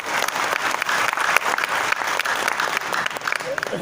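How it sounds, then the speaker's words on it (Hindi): Enthusiastic audience applause at a Hindi comedy poetry show, a loud continuous roar of many hands clapping that holds steady throughout. "मैं चाहता हूं उनकी अच्छी शुरुआत के लिए आपकी जोरदार तालियां बजें।"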